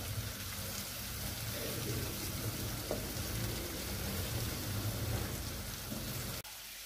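Tadka tempering for sarson ka saag sizzling steadily in a pan, a dense, even hiss held close and loud for several seconds before cutting off abruptly at the end.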